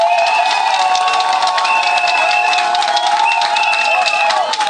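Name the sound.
audience applauding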